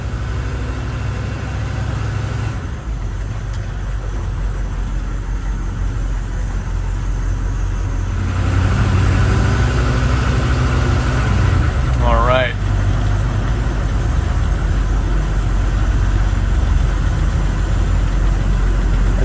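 A 1986 AM General HMMWV Humvee drives along with a steady, low engine drone that grows slightly louder partway through, while a voice talks over it.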